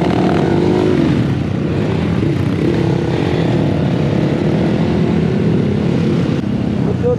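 A motorcycle rides along a road near Pokhara, its engine a loud, continuous drone that holds steady throughout with slight changes in pitch.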